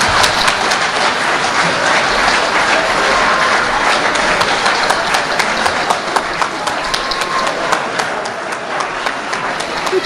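Sustained audience applause after a speech at a political talk, dense steady clapping filling the whole stretch without letting up.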